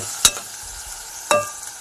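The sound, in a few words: onions, green chillies and seasoning seeds frying and stirred in pan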